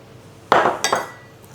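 A spoon strikes and scrapes a metal pot while rouladen sauce made with water, bay leaf, cloves and diced onion is stirred. Two short clanking bursts sound close against a quiet room.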